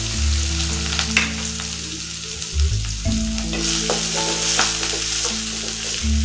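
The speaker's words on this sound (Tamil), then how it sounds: "ஆயில் சேர்த்துக்கலாம். கட் பண்ணி வச்சுருக்க வெங்காயம் பச்சை மிளகாயும் சேர்த்துக்கலாம்." Sliced onions and green chilies sizzle loudly in hot oil in a pan, a continuous crackling hiss with stirring, while steady tonal music plays alongside.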